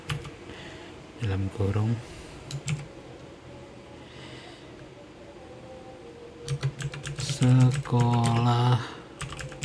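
Someone types a Python script on a computer keyboard, with quick clusters of key clicks between pauses, while someone talks over the typing.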